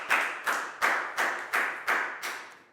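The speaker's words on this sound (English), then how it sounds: "High five and a big round of applause for Pak Bung, please, guys" A classroom of students claps in six evenly spaced, crisp bursts, fairly quiet and with no talking over it.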